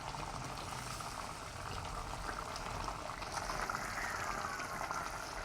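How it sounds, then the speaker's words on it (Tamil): Fish curry bubbles steadily in a pot, a continuous soft simmering hiss with faint gurgles running evenly throughout, close and alone with no talking. "பாருங்க நல்ல வடிவாக எங்களுக்கு கொதிச்சு கொண்டு இருக்குது"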